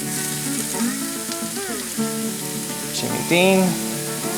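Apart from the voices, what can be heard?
Jimmy Dean breakfast sausage browning and sizzling in pan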